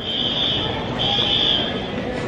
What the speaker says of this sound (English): There is an alarm going off at the airport